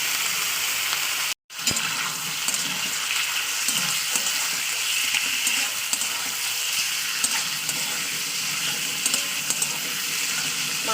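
Meat sizzling in hot oil with onions already fried to a reddish brown, three hundred grams of it, a steady loud crackling fry throughout with one brief break near the start.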